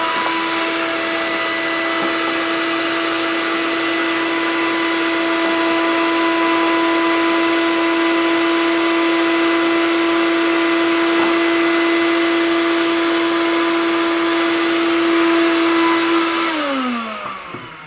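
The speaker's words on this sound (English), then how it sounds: "I got to vacuum off the top of these for some reason." A vacuum cleaner runs loud and close while cleaning the boards of a Williams Star Pool pinball machine, holding a steady whining drone with a strong tonal hum before winding down abruptly near the end.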